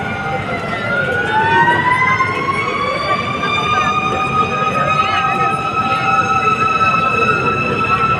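Several loud wailing fire truck sirens overlap, rising and falling continuously and close by, with a low rumble of engines underneath, as multiple fire trucks roll out along the Pasig River Esplanade.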